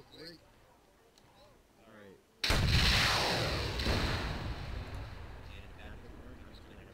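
A TOW missile in ArmA 3 fires with a sudden loud blast, then a long roaring rumble and debris wash that slowly fades, following quiet radio-style talk.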